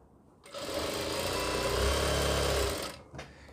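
A sewing machine runs steadily for a few seconds, stitching a balloon-style top, with a fast, even mechanical whirr that starts abruptly and stops cleanly, followed by a brief click.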